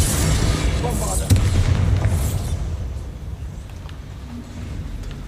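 The Bombarda spell sets off a loud booming explosion in the video game Hogwarts Legacy, with a heavy low rumble that decays over a few seconds while a voice speaks over the start.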